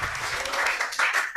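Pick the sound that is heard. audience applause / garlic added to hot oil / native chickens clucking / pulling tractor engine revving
audience applause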